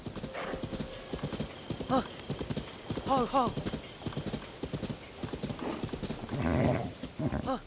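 Rhythmic clip-clop of horse hooves with a couple of whinnies, over a busy Zelda: Tears of the Kingdom game soundscape and some voices.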